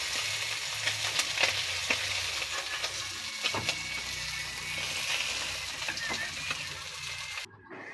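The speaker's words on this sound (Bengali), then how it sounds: "মাছগুলো ভালো করে ভেজে নেব। মাছটা এভাবে ভালোভাবে ভেজে নেব।" Fish pieces frying in hot oil, a steady close crackling sizzle with occasional stirring scrapes, continuous until it cuts off abruptly near the end.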